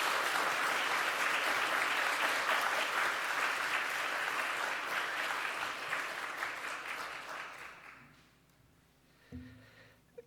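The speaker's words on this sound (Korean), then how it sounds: "우리 목사님 나오실 때 따뜻하게 우리 박수로 환영해 주시면 좋겠습니다" A church audience gives warm applause to welcome a pastor, with loud sustained clapping from many hands that gradually thins out and fades to near silence.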